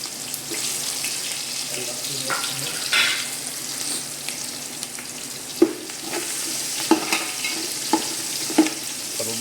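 Garlic frying in oil for chowmein and being stirred, a soft steady sizzle broken by sharp scraping and clinking of the utensil against the pan, with faint background voices.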